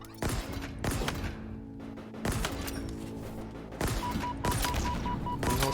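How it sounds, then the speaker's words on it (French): A sticky grenade goes off during a Halo Infinite match amid several loud, sharp blasts and bursts of gunfire spread across the moment, with a steady background hum and no talking. "c'était une grenade collante, j'avais pas vu."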